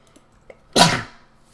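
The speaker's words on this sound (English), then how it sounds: "Sneeze right there." A single close, sharp sneeze bursts out after a short breath in, then trails off quickly into quiet.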